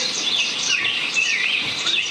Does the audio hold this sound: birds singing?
yes